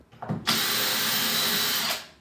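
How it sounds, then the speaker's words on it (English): Power drill boring into porcelain tile during a bathroom refit, a brief start followed by a loud, steady high-pitched grinding whine for about a second and a half, then spinning down, close up with no talk. "You either want to be drilling a porcelain tile for an hour"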